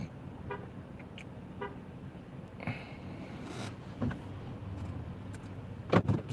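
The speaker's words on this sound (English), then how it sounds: "this guy's moving his car, I guess." A nearby car is moved on a cold street, with faint engine noise, a couple of short horn toots and a door-like clunk near the end, all fairly quiet against background hum.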